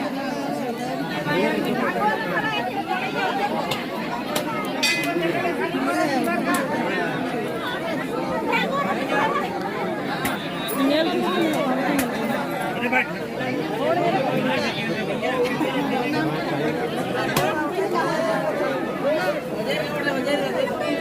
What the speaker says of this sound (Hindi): तो गजब का भीड़ है।